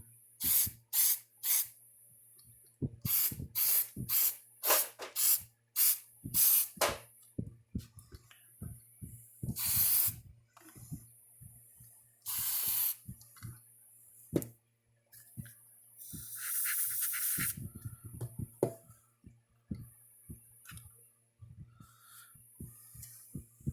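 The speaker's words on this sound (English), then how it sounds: "And I'll go ahead and spray that shit on there." An aerosol can hisses in a series of short sprays, some in quick bursts and a few longer blasts, close by, with clicks and handling noises between.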